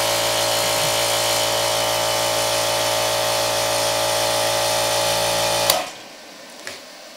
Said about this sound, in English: Both the dehumidifier and the air compressor started right up without any issue at all.